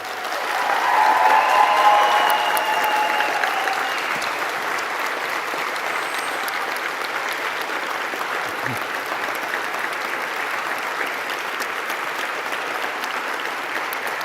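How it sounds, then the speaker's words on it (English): A large audience at a university graduation ceremony applauds in a long, sustained roar of clapping. It swells near the start, then holds steady at a slightly lower level throughout, with faint crowd noise mixed in. "Give them a huge round of applause."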